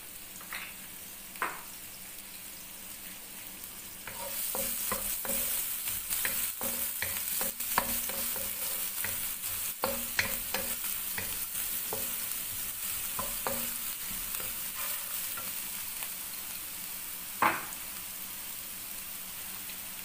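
A finely chopped medium onion fries in two tablespoons of oil, a soft hiss that jumps to a loud, crackling sizzle a few seconds in, with frequent scraping and tapping of a stirring spoon against the pan.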